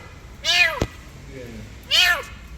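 A cat meows twice, two loud, clear, drawn-out cries about a second and a half apart, close to the listener, with a sharp thump between them and faint voices in the background.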